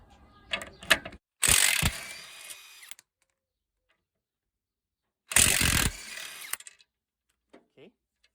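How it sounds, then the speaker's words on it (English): A ratchet wrench backs off old nuts on a 2014 Kia Sportage 2.0 CRDI front control arm, giving two close bursts of fast ratcheting clicks separated by a pause, with small taps and clinks around them. "So now we remove the old nuts."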